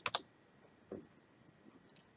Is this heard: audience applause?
no